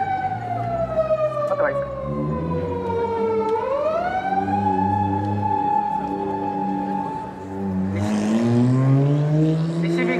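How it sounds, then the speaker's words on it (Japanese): A police car siren wails in rising and falling sweeps at close range on a street during an outdoor anti-war rally in Hachioji, loud and sustained, with a person speaking briefly over it. "パトカーが反応してますけど"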